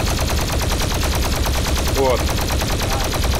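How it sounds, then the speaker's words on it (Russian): In Garry's Mod, a Doom plasma gun fires in a fast, steady stream of rapid pulses, loud and continuous. One brief word is spoken over the shots. "плазменная пушка из Дума"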